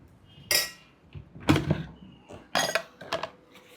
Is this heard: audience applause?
no